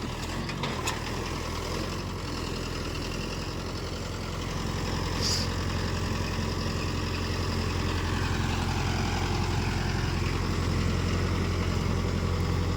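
Mahindra Yuva Tech+ 585 tractor ploughing a field, a steady low diesel drone heard from a moderate distance, fairly quiet and continuous with slight swells in level.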